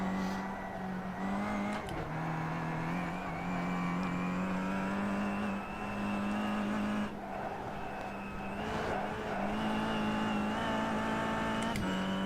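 Kia Optima PWC GTS front-wheel-drive race car on Summit Point circuit in iRacing, its engine droning steadily at high revs under hard throttle, pitch holding with brief dips at gear changes, loud and continuous throughout with no talk.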